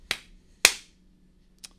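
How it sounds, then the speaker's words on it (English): Sharp, close hand claps or snap-like slaps: one crisp hit, a louder second one about half a second later, then a fainter third after a pause, in an otherwise quiet room. "Not sure why I clapped there."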